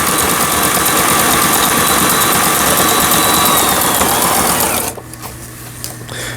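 Brother SF3700 sewing machine running an overlock stitch along fabric edges, a fast, even mechanical whir and rhythmic needle clatter for about five seconds before stopping, leaving a quiet low hum.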